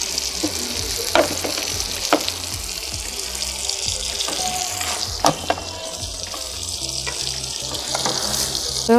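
A mutton burger patty fries in a pan with a dense, close sizzle, punctuated by scattered scraping clicks and taps as it is pressed down with a spatula.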